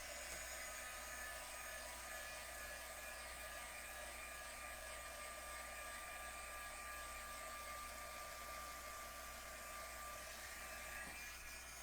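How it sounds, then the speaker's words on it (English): Steady, continuous blowing whir of a heat tool drying gel on a craft project, held close at an even level for the whole stretch with no pauses and no voices. "I'm going to hit this with a little bit of heat to get this gel to dry a little bit."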